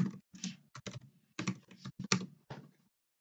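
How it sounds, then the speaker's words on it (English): Someone types on a computer keyboard while entering spreadsheet formulas: a quick run of close, crisp keystrokes in short clusters, alone and near. "in a new column, you're going to type in weighted average"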